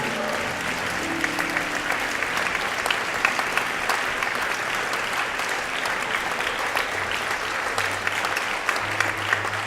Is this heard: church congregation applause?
yes